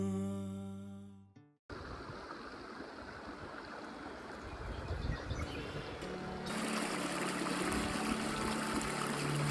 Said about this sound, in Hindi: पीछे नदी बह रही है